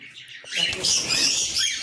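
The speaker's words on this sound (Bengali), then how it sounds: "এটা ককটেল আছে এগুলো।" Cockatiels in a bird loft call and chirp, a short burst of high, overlapping bird sounds that swells and holds steady after a quieter start.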